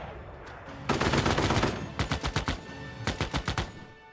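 A tank unit in Civilization VI opens fire: a dense rapid burst of automatic gunfire, then two shorter rattling volleys with brief pauses between, loud and close.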